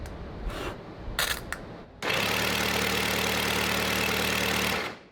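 A Cosworth XD IndyCar engine, hotwired, first cranks with rough bursts, then catches and runs loudly at a steady, buzzing idle for about three seconds before cutting off, close and without talk.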